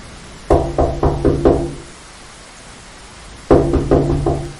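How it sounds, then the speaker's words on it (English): As a spooky sound effect, someone knocks on a window in two rapid series of about five sharp raps each, separated by a quiet pause of nearly two seconds. The knocks are close and clear. "They were looking for a flashlight when something knocked on the window behind them."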